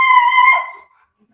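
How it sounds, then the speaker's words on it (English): A single dog's high, drawn-out yelp or howl, loud and close, sliding down in pitch and fading out within a second, with no talk over it. "sorry, that's my dog barking."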